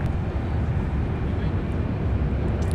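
Jet airliner taking off at Minneapolis–Saint Paul airport, a steady broad roar held at a distance throughout with wind buffeting, no talk.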